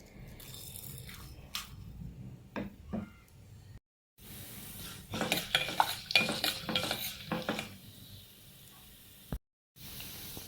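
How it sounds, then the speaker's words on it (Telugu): Tempering seeds hit hot oil (about two spoons) in a pan for a lentil dal, giving a crackling sizzle with scraping stirs and a few metallic clinks of spoon on pan; two brief silent gaps break the sound. "తాలింపు గింజలు"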